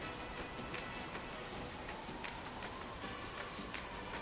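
Steady rain falls in the Big Ambitions game, a faint continuous hiss of drops with scattered soft patters throughout and no voices.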